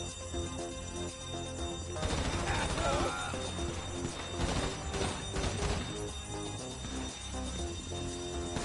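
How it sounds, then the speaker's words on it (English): Video game gunfire from enemies shooting at the player, bursts of loud crackling shots starting about two seconds in and recurring in clusters over a dense game soundtrack. "Oh, they're shooting me."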